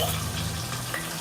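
Vegetables, including drumstick, carrot and pumpkin, fry in a little oil for sambar. A steady, close sizzle holds throughout the short stretch, with no talk over it.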